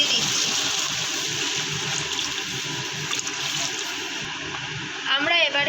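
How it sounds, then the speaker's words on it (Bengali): Water poured into a pan of cabbage fritter curry with spices, a steady loud hissing, splashing rush that runs throughout, with a voice speaking briefly near the end. "জল দিয়ে দিচ্ছি।"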